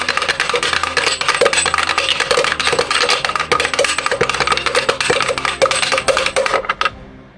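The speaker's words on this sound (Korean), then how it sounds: "동전이 있어요. 얘를 이 상자에 넣고 흔들어 봅시다." A coin shaken hard inside a closed box gives a dense, continuous rattle of metallic clicks and knocks against the walls for about seven seconds, loud and close, stopping abruptly near the end.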